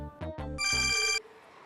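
A telephone rings with a bright electronic ringtone, a short burst of high buzzing tones lasting about half a second, preceded by a few low rhythmic beeps, then cut off abruptly into quiet.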